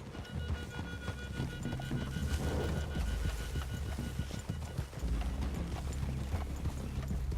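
Horse hooves clip-clop steadily on the ground in Red Dead Redemption 2, several horses moving at a walk, over a constant low rumble of background ambience.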